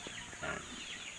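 Young broiler chicks on a farm cluck and peep softly in a brief faint burst, with some background hiss.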